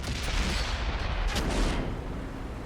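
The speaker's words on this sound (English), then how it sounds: "This is constant shooting from both teams" Tank battle in World of Tanks on console, dense overlapping cannon and gun fire rumbling continuously, heavy low booms with sharper cracks layered on top, loud throughout.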